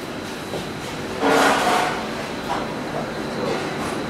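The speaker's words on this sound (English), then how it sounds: "it's getting a little bit more noisy in the kitchen" Busy kitchen of Aqua, a three-Michelin-star restaurant in Germany, hums with steady broadband noise, then a brief louder clatter of activity in the middle. No one speaks.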